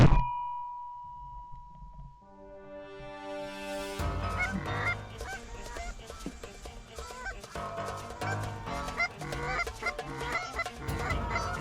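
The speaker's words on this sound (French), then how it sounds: "ces oies volaient bas" Low-flying geese honking repeatedly during a goose hunt in Sweden, a chorus of loud, close calls in rapid overlapping bursts, preceded by a brief ringing tone and quiet.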